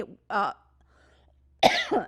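A couple of short, harsh coughs close to the mic, separated by a silent pause, with a throaty voiced quality.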